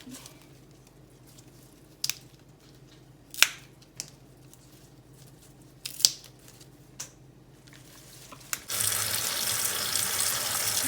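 Water spinach is handled with scattered crisp leafy rustles and small clicks for several seconds, then a kitchen tap is turned on and water runs steadily and loudly close by.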